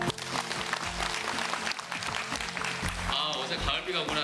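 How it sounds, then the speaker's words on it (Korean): Audience applause at a live Ignite V Korea event, a steady wash of clapping sustained throughout under a dense crowd texture, with voices mixed in. "박수를 들으니까요"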